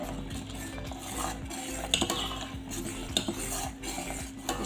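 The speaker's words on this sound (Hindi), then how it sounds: "इस तरह से धीरे धीरे मैं डाल रही हूँ और हिलाए जा रही हूँ" Custard mixture trickles slowly into a pan while a spoon stirs steadily, scraping and clinking against the metal in a continuous close rhythm, with a couple of sharper taps.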